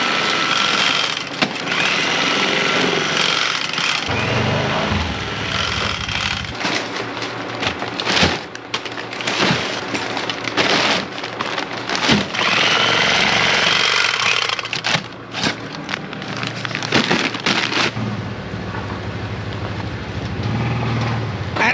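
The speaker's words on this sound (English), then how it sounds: "I'm just gonna shut this tractor off and leave it out here." A tractor engine runs close by outdoors on a potato farm, a loud, continuous rattling, knocking drone that dips briefly now and then but never stops.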